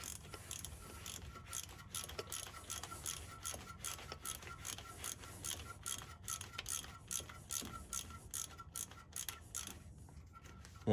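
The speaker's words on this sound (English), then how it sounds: "and go ahead and break these loose" A ratchet with spark plug socket and extension breaking loose spark plugs on an Isuzu NPR, a long run of quick, rhythmic clicking strokes, close and fairly quiet, with no talking.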